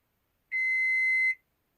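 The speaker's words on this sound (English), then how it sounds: "It makes one beep" A new microwave oven's timer gives one clean, steady electronic beep lasting under a second, sharp and close against otherwise silent surroundings.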